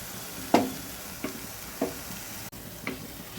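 Mustard seeds, poppy seeds and garlic crackle in hot oil in a pan, giving a few sharp spitting pops over a steady low sizzle, close and fairly quiet with no voices.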